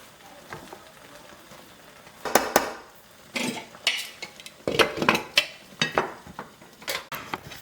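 A spoon scrapes and knocks against a pot while a Guinean fouti rice dish with onion and shrimp sauce is mixed, giving irregular clattering strokes that grow busier and more rhythmic toward the end, close and fairly loud.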